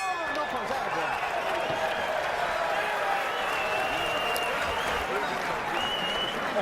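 Boxing crowd at the Vic Darchinyan versus Anselmo Moreno fight, cheering and clapping in a continuous, energetic roar that stays loud and steady throughout.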